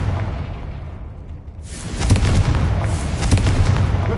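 The Confringo explosive spell in Harry Potter Legacy sounds as a fiery burst: a rumbling whoosh swells into a loud, crackling blast. Several sharp cracks follow over a sustained roar.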